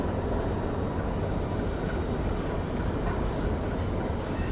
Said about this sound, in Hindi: फाइनली भी अपनी मांडवी एक्सप्रेस निकल रही है Chhatrapati Shivaji Maharaj terminus CSMT railway station से।